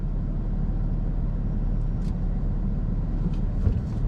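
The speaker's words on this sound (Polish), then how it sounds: "to teraz pokażę Wam mniej więcej przyspieszenie tego samochodu" A Volkswagen Golf GTI VIII Clubsport accelerating: a loud, steady low engine rumble fills the whole stretch without letting up, with no talking over it.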